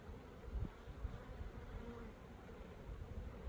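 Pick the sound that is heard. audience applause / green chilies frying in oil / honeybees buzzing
honeybees buzzing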